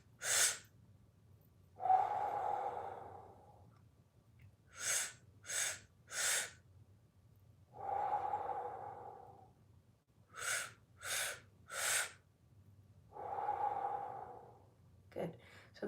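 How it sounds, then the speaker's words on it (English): A person doing a Kundalini yoga breathing exercise, with three quick sharp inhales through the mouth in a row, then a long exhale, repeating in a steady cycle, close and clear. "And then take 3 inhales through the mouth."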